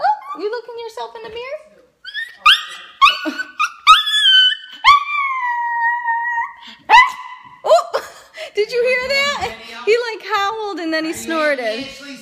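A dog lets out high, wavering howls and whines, rising and falling in pitch, while people chatter and laugh close by.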